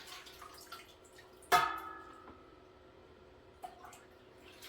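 Whey drips from a cheese press drip tray into a sink, with one clear drop hitting water near, a fainter second drip later, and a quiet ringing tone beneath.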